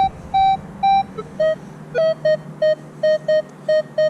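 A Minelab Manticore metal detector on a beach sounds a series of short, loud electronic beep tones in an uneven rhythm for a white gold ring, some tones slightly higher than others, with no talking.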